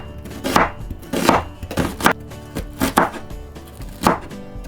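Onion being chopped with a knife on a cutting board, about six distinct close knocks in an uneven rhythm with no talking.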